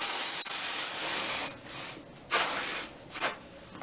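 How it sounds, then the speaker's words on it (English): Batiste dry shampoo is sprayed into hair from an aerosol can, a long steady hiss followed by three shorter bursts, close to the listener. "You hold out your arm and you spritz. Run my fingers through my hair whilst I spritz the product."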